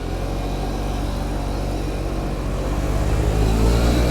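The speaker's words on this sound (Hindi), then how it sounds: "एम्बुलेंस में वैसे निकलने के चक्कर में है।" An ambulance pulls away on a street, its engine droning low and close, then rising and revving as it gathers speed, with no voices over it.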